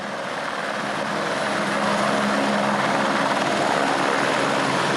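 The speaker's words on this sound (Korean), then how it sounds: "1시간 정도를 기다리자 드디어 마지막 헬기가 저 멀리서 모습을 드러냈다" A helicopter arrives high in the Himalayas, its rotor and engine roar filling the air as a loud, steady broadband drone that builds slightly in strength as it nears.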